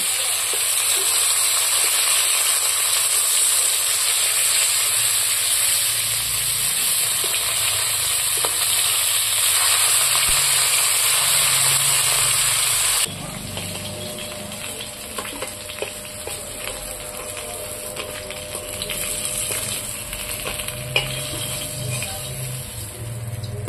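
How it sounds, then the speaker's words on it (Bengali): Rui fish fry in oil in a pan, giving a loud continuous sizzle with close crackle. Partway through, the hiss drops to a softer level with faint clinks of a spatula. "দ্বিতীয় পর্ব মাছ ভাজা চলছে"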